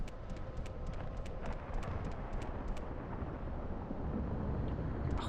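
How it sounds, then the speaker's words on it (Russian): Thunder in the video game Morrowind with the Tamriel Rebuilt mod rolls as a long, continuous low rumble, with rain and faint clicking ticks over it. "Какой гром, да, красивый, величественный."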